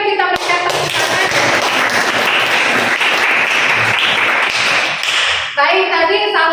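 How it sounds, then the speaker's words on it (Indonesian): Sustained applause from a classroom of students clapping for a classmate, a dense wash of hand claps lasting about five seconds before stopping abruptly. "pendapat dari Feli bagus ya, kita berikan tepuk tangan."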